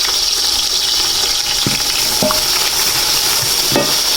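Onions and whole garam masala spices frying in hot oil, a loud continuous hiss and sizzle close up, with a few sharp clinks of a spoon against the pan and no voices.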